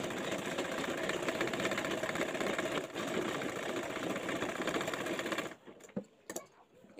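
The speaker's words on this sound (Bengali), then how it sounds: "এই তো আমি চাপ সেলাই দিয়ে বেলটাকে বসিয়ে নিয়েছি" A sewing machine runs steadily and close up while topstitching the waistband of a toddler's skirt, a continuous whirring hum that stops abruptly near the end, followed by a few soft handling knocks.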